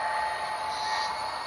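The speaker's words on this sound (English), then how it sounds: "3 trains all running" Three model trains running at once on a home layout, passenger, work and long freight trains, giving a steady whirring rumble with a faint high whine, continuous and close, no voices.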